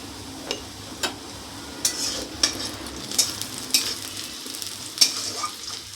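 Carom seeds and nigella seeds sizzle softly in a frying pan while a utensil scrapes and clinks against it in several sharp taps, nearby and fairly quiet, with no voices.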